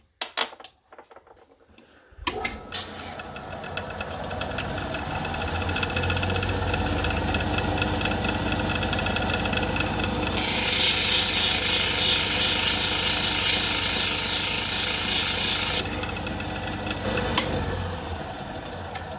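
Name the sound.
lapidary wheel grinding Holley blue agate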